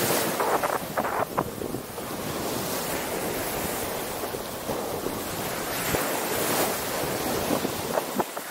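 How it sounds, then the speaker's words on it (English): Stiff onshore wind and breaking surf on the Whitstable shore of the North Kent coast, a continuous roar of waves with gusty wind buffeting the microphone, loud and close. "I was greeted by a fairly stiff breeze straight into my face"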